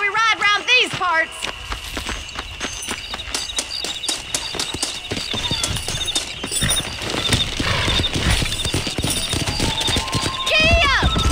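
Horse hooves clip-clop steadily at a brisk riding pace in Red Dead Redemption, with a whinny at the start and end, game music and a voice talking over the ride.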